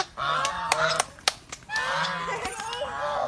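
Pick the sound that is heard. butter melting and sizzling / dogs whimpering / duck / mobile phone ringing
duck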